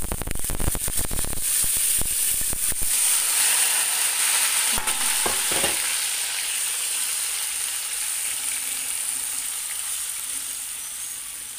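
Cassava leaves hitting hot oil with garlic fried golden in a pan, a loud burst of sizzling and scraping stirs at first that settles into a steady, fading fry hiss.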